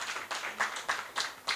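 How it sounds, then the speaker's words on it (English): Applause for supervisors at a PhD dinner: a brief burst of fairly faint clapping from a crowd, with uneven bursts of claps over about a second and a half. "May I applaud those of you who are in supervisory roles."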